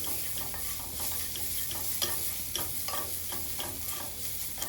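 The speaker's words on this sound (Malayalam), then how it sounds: "അത് ബ്രൗൺ ആവുന്ന വരെ നമ്മൾ ഫ്രൈ ചെയ്തെടുക്കും" Chopped ginger and garlic with asafoetida fry in oil over a medium flame, giving a steady close sizzle. Light scraping stir strokes break through it at uneven intervals, with no talking.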